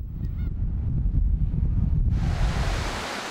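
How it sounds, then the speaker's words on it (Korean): A strong sea current rushes through the narrow Jijok Strait in Namhae, South Korea, a loud churning roar of water with wind, swelling into a broader surf-like wash partway through. "거센 물살이 지나는 좁은 물목 지족해협."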